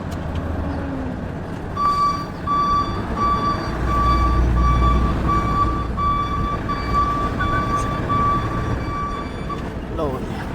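A truck's reversing alarm beeps in a steady repeating series while the truck backs into position for loading, loud over rumbling engine noise, with someone talking at times.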